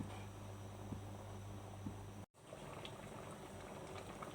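A pot of water boiling for a pork belly curry gives off a quiet, steady bubbling hiss that cuts out briefly in the middle and then carries on unchanged.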